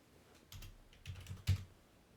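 A few soft keyboard clacks in short bursts, quiet and close, with brief pauses between keystrokes.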